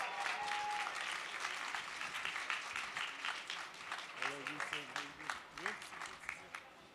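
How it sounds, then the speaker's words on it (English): A press conference crowd in Basel applauds as Usain Bolt is welcomed on stage, clapping running throughout while voices speak over it toward the end. "Big applause."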